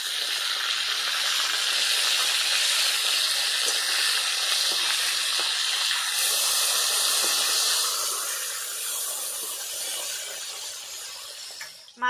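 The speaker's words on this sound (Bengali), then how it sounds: "তেল গরম হয়ে গেছে, এবার মাছগুলো ভেজে নেব।" Fresh snakehead (shol) fish sizzles in hot oil in a village-style kitchen, a loud continuous hiss and crackle that eases slightly toward the end, with no talking.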